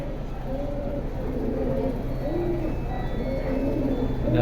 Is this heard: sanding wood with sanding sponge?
no